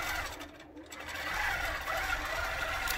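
An automated Qnique long arm quilting machine from the Grace Company stitches a quilt, a steady, close mechanical whirring hum that runs without pause.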